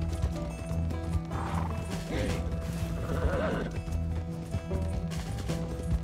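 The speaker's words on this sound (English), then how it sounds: "This horse can't do that sharp turn." A horse in Red Dead Redemption 2 gives a loud whinny over steady clip-clopping hooves and a rumbling background, with no one talking.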